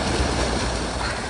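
A garden waterfall in winter, a dense, steady rush of falling water heard close and loud without a break.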